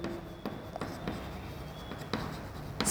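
Chalk or marker writing on a board during a maths lesson: a series of short scratchy strokes and taps in irregular rhythm, close and fairly quiet, with no talk over it.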